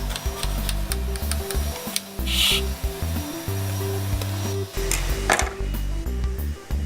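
A knife cutting through a soft condensed milk cake, scraping and rubbing strokes at close range, with no talking.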